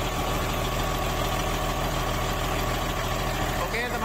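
Diesel engine of a Komatsu motor grader idling steadily without throttle, a continuous low rumble with a slight knock running through, near and loud, with a voice speaking over it.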